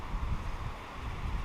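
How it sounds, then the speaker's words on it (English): Wind buffeting the microphone in a steady low rumble, with no other sounds. "it's a little windy out"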